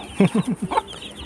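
A mother hen clucks in a short burst of five or six quick, close clucks, fairly loud and with no other sound.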